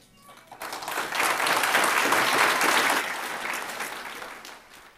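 An audience at a school board meeting bursts into applause that swells quickly, holds strong for a couple of seconds, then tapers off gradually.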